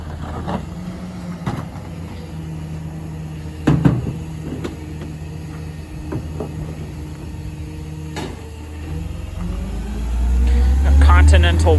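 A CNG-powered Freightliner M2 garbage truck with a Leach 2R-III rear loader collecting residential compost and trash, engine idling low under scattered clanks and thuds of bins and hydraulics, swelling into a louder rumble at the end.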